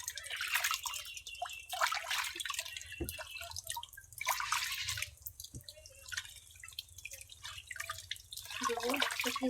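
Ripe mango washed under running water, with faint trickling, dripping and splashing in uneven bursts, close but quiet.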